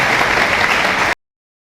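A crowd at an Agrawal community political gathering applauds to welcome MP Naveen Jindal, a loud, dense burst of clapping that cuts off abruptly after about a second.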